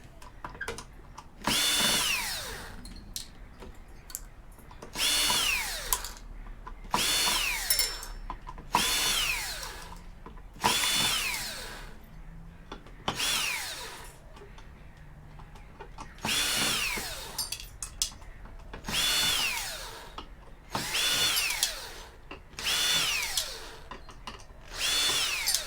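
Power drill backing screws out of compact electronic scrap, in repeated short bursts of a few seconds each with rising and falling whine, separated by brief pauses, close and fairly loud.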